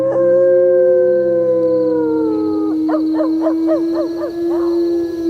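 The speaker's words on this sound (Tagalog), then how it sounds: "Grabe naman ang alulong ng asong yun." A dog howls in one long, loud, sustained wail that wavers and breaks into a pulsing, yodel-like pattern partway through, close and alone.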